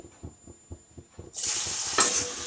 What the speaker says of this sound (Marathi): तर यामध्ये आपल्याला हा दुधी घालून घ्यायचा आहे